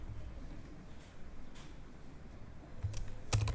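A computer keyboard is typed on while a command is entered on a Windows 11 PC. Faint, scattered key clicks sit over a low hum, ending in a couple of sharper presses.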